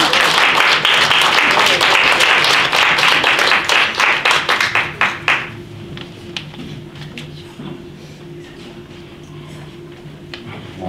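An audience at a senior center writers' reading claps loudly for about five seconds, the applause thinning into scattered claps before settling to quiet room tone.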